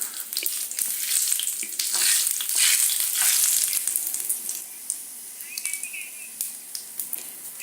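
A tadka of spices frying in hot oil for Punjabi kadhi pakora gives a loud, bright close-up sizzle that swells midway and then thins into scattered crackles and pops.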